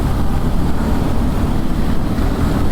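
Strong wind roars continuously and loudly across the microphone during a motorcycle ride from Cubao to Balintawak, a dense, unbroken rumble with no pauses.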